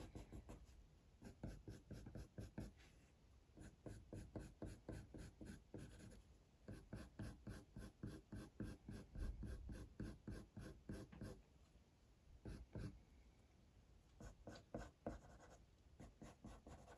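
Faber-Castell Polychromos coloured pencil working across drafting film while drawing a realistic badger, a steady run of rapid, close scratchy strokes with short pauses between bursts.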